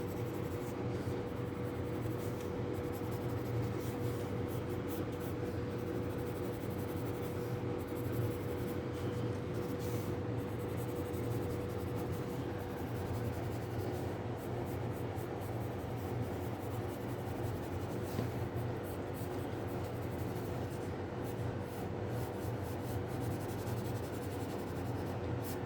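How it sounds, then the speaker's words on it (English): An 8B or 10B pencil shading dark areas of a still-life drawing on paper, a steady soft scratching and rubbing that runs unbroken and close throughout. "So we have to use the 8B or 10B pencil"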